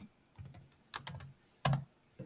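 Keystrokes on a computer keyboard come in short, uneven bursts, with close clicks separated by quiet gaps.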